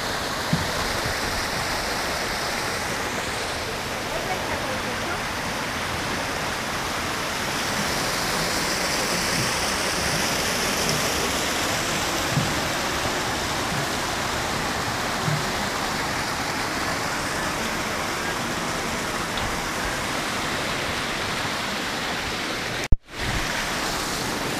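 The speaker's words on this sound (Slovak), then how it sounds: "bystrá voda tečie" Fast-flowing water of a spring stream in the mountains, a loud continuous rushing and splashing that holds steady throughout, ending in a brief knock.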